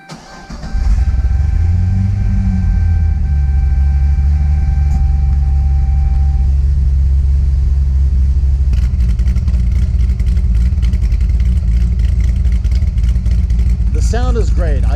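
A Chevrolet Corvette engine cranks and catches, swelling into a loud, deep idle that rumbles steadily and close, with a brief rev bump early on, while a person talks over it.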